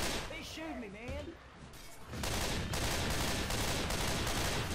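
Dense gunfire from the video game Left 4 Dead 2, a rapid loud rattle of shots in the second half after a quieter opening, with a player talking.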